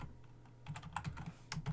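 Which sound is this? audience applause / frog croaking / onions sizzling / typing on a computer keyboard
typing on a computer keyboard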